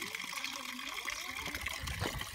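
Water runs from a roadside tap in the Armenian mountains in a steady splashing stream, close and fairly loud, with faint background sounds.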